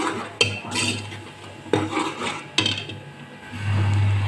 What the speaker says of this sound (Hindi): इस स्टेज पर मैं अब इसमें सूखे मसाले शामिल कर दूंगी। इसको डालकर हम भूनेंगे।